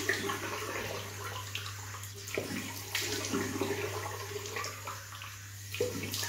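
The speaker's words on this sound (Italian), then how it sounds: "Andiamo a bagnarci la barbina e vediamo cosa succede." Water from a running tap splashes and trickles at a sink while a beard is wetted before shaving, a close, soft, continuous flow with small uneven splashes and a low steady hum beneath.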